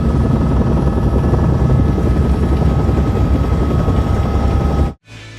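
Helicopter rotor chop and engine roar, loud and steady throughout from inside a Soviet helicopter, cutting off abruptly near the end, with no talk.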